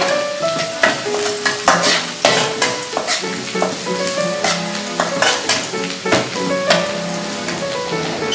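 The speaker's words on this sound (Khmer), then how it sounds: "យើងបំពងខ្ទឹមយើងហ្នឹងឲ្យឡើង ហូមឆ្អិនឈ្ងុយ" Garlic fries in a hot pan for pork chop rice, a loud continuous sizzle broken by repeated scraping and clinking of a spatula stirring against the metal.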